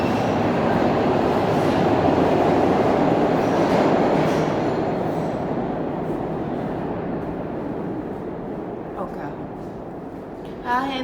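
Trains pass nearby in a loud, continuous rumbling wash of rail noise that slowly fades, with a faint squeal near the end.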